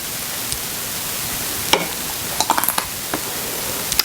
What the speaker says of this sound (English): now I'm going to ladle it up into my half-pint jars.